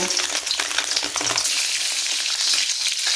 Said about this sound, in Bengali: এরপর এখানে ডিমগুলো দিয়ে ডিমগুলোকে আমি সুন্দর করে আমি ভেজে নেব